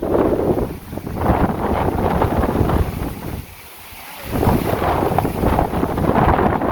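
Wind buffets the microphone outdoors near a pond under cloudy skies, a loud steady gusting roar that drops briefly to a lull midway before surging back, with no voices.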